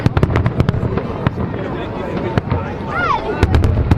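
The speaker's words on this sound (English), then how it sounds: "But luckily we saw the fireworks." New Year's Day fireworks over Lisbon, seen from a packed street a walk away from the main square: sharp scattered bangs and crackles, one rising whistle, crowd murmur and voices in between.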